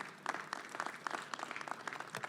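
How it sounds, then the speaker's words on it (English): Audience applause at the New York State Boat Show ribbon cutting in the Javits Center: a brief, fairly faint patter of many hands clapping, fluttering unevenly without any voices over it. "Let's give them all a round of applause and thank them."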